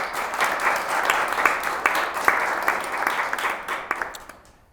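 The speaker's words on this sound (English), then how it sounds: "A warm round of applause," Dense, steady applause fills a panel event on South Africa's illicit economy as the crowd welcomes a speaker, a loud sustained patter of many hands that tapers off at the end.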